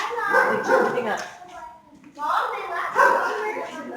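A dog close by gives high, whiny yips and whimpering barks in two bursts separated by a brief quiet gap, loud and near, with no clear speech over it.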